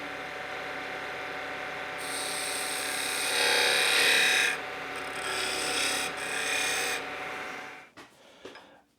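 A skew chisel cuts a spruce-free wooden spindle spinning on a lathe, a steady close rasping hiss that swells in bursts as the blade bites deeper, then cuts off abruptly as the tool lifts away.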